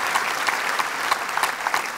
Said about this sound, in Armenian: մեր բարձր ծափարությունները և ողջույնները ձեզ